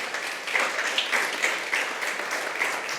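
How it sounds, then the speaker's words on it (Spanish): Sustained applause fills a church congregation, a dense, steady wash of many hands clapping throughout with no pauses, moderately loud and slightly distant. "Regalémosle un aplauso a Dios bien fuerte"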